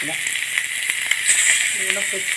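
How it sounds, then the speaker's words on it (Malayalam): Small tuna fish frying in a pan, a loud, continuous hiss and sizzle with scattered crackles, and a voice speaking briefly near the end. "അപ്പോൾ നമുക്ക് അതും കൂടി ഒന്ന് പൊരിച്ചെടുക്കാം."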